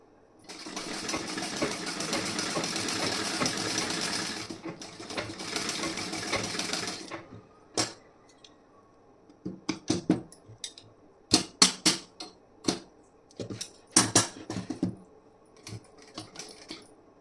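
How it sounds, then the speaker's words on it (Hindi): A sewing machine stitches a second row along a blouse neckline, running in one long steady burst and then a shorter run, followed by a string of brief, sharp stop-start stitching bursts near the beads. "तो यहाँ पे भी मैं 2 सिलाई लगा रही हूँ"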